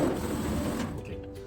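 A laser cutting machine head travels to trace the outline of the cut over a metal plate, giving a short, steady mechanical whirr of motors that fades slightly toward the end.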